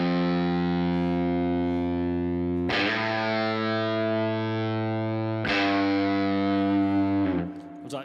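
Electric guitar playing a track's chorus part through distortion and effects, three long sustained chords struck one after another, rich and overdriven, ringing out before fading at the end.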